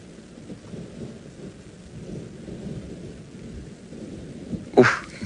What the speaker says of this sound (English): Can listen to that thunder.